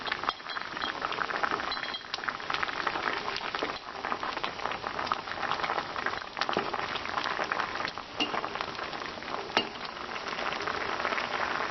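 Andhra-style sambar with tamarind extract, garlic, curry leaves and coriander bubbles steadily in a pot, a continuous moderate simmering hiss with occasional faint clinks.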